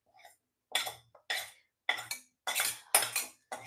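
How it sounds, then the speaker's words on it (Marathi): A kadai is scraped clean of stuck roasted dry coconut in six or so separate metallic scraping strokes, close and crisp, with short silent gaps between them. "आता हे जरा कढई मी साफ करून घेते"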